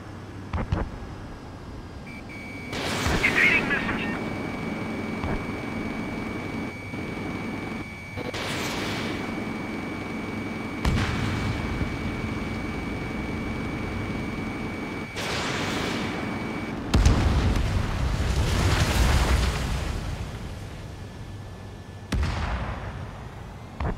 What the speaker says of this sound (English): Missile. Fox 2. Missile.